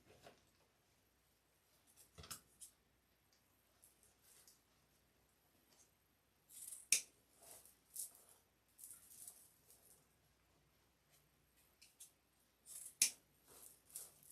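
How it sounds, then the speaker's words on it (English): Scissors make a few sparse, quiet snips while trimming material for a wreath, with long near-silent gaps between the cuts. "All right, so now I just need to do some trimming."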